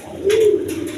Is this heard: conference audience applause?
no